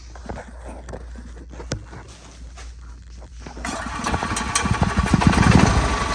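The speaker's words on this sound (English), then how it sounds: "See how it spits and sputters?" An EZGO gas golf cart with electronic fuel injection and a no-start fault, its engine running roughly with uneven spits and sputters, growing louder and busier in the second half.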